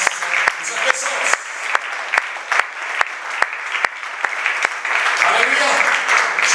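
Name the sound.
church congregation applauding and acclaiming the Lord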